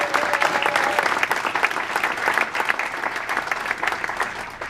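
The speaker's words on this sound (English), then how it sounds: "Give him a good round of applause." A dinner crowd at a county political gathering in New Hampshire breaks into loud, sustained applause, a dense steady wash of many hands clapping with no pauses.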